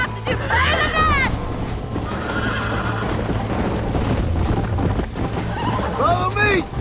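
In Red Dead Redemption, a horse whinnies loudly twice, once near the start and again at the end, over the steady clip-clop of hooves, with talk and game sounds in the background.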